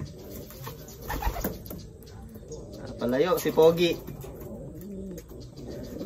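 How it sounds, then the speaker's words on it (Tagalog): Racing pigeons coo in a loft in soft, throaty rolling bursts, with one clearer coo swelling near the middle, while someone talks over them. "Ayos mga kalapatids, maya magpapakain na tayo."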